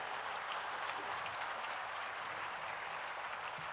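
Applause from an audience honouring the prime minister at a public event, a continuous even patter of many hands clapping, fairly faint and steady with no voices over it.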